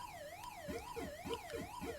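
Pac-Man siren from an Atari 2600 homebrew game, a continuous electronic tone sweeping smoothly up and down in a steady, repeating wail, with bright chirpy blips overlapping it.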